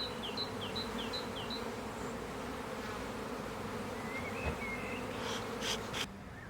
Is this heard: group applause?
no